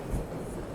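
A passenger train rolls along the rails with a low, steady rumble that stays even and unbroken through the short stretch, with no voices over it.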